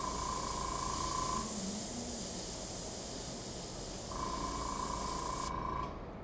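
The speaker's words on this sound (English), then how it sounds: "I'm not totally done with the airbrush yet" An airbrush sprays transparent black paint over a marker drawing of a Ferrari F40 LM, a close, steady hiss that shifts slightly in tone and then cuts off near the end.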